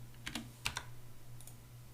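Keyboard shortcuts for copying and pasting code, heard as a few crisp key presses in two quick pairs and then a faint later tap, close and quiet over a low steady hum, no talking.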